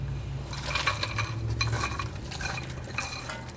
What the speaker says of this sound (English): Then you're going to add some cut okra.